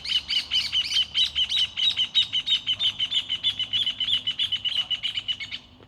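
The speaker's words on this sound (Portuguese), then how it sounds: "Olha que coisa linda, os pássaros cantando." Birds singing nearby in a rapid run of bright chirps, repeated in a steady pulsing rhythm for several seconds, loud and close, with no voices over them.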